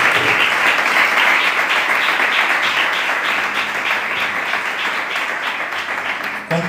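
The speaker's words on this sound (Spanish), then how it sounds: "¿Le puedes dar un aplauso al Señor?" A church congregation claps together in a sustained, loud burst of applause that fills the room, fading slightly toward the end.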